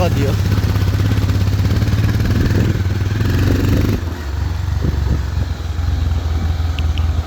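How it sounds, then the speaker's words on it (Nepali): A 200 cc motorcycle with a rider and passenger climbs a steep uphill trail, its engine droning loud and steady with gear-shift changes around midway, rough clatter from the road underneath, and no clear talk. "बाइक चाहिँ अलिकति स्ट्रङ चाहिन्छ। उकालोमा उक्लिन चाहिँ गाह्रै छ।"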